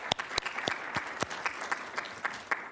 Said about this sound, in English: Let's give Maria a round of applause.